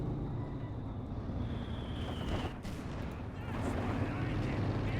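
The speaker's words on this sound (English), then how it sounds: "And he's been hammered here by the Third Mortar with 15 kills." Mortar and artillery fire in a Company of Heroes 2 match between German and Soviet forces, with a steady rumble of explosions and shelling that swells and fades over several seconds, no talk over it.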